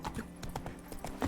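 Roach the horse trots in The Witcher 3, hooves clip-clopping in a quick, steady rhythm of close, distinct thuds across a short stretch.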